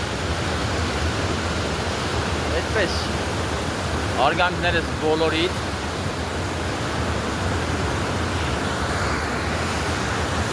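A steady, dense hiss of water spray and falling mist fills the whole stretch, loud and continuous, with a voice speaking briefly over it near the middle.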